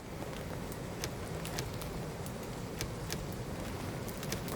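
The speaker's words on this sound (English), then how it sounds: "let's bring on the rain" Steady game rain in End Zone: A World Apart, a constant soft hiss of drops with scattered faint ticks, evenly sustained and alone without talk.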